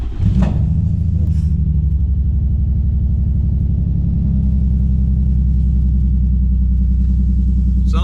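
Nissan 350Z engine with test pipes and the silencer removed cranks and fires up, then settles into a loud, deep, steady idle rumble that continues throughout.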